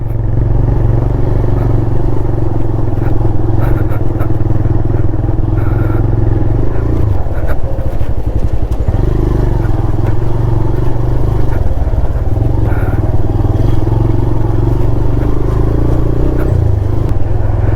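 A motorcycle rides a rough mountain road toward Mustang in Nepal, its engine droning loud and continuous with rattling and clattering from the rutted surface throughout.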